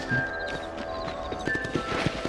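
Horse hooves clip-clop at a walking pace in the Red Dead Redemption video game, a few clear, close hoofbeats with a brief whinny and faint background game sound.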